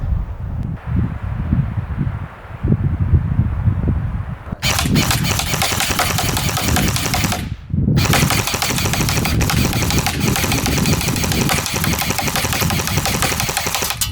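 A Barra 400E Gen 2 all-metal electric .177 BB machine gun fires in semi-auto, giving dense rapid mechanical clatter that runs loud and steady, breaks off for a moment, then resumes, with quieter handling noise before it starts.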